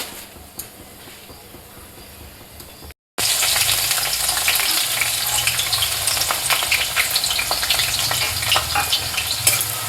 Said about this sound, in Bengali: পেঁয়াজগুলো একটুখানি ভেজে নেবো ভালো করে।